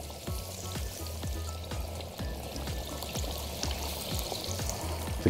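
Fish frying in hot bubbling oil, a steady sizzle with repeated sharp pops and crackles spaced about every half second, close and moderately loud, with no voices.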